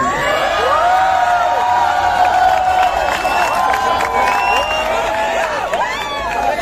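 A large student audience at an entrepreneurship summit talk at IIT Bombay claps and cheers, a sustained roar of crowd noise with whistles and whoops rising over it throughout.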